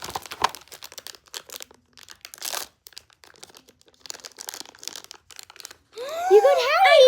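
A blind box package is opened by hand, with short crinkly tearing and rustling bursts up close, then voices rise at the end.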